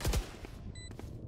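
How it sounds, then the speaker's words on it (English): Swarm grenades burst in Valorant with a quick cluster of sharp pops up front, then fade into quieter rattling blasts and a brief electronic tone, fairly faint overall. "Placing swarm grenade."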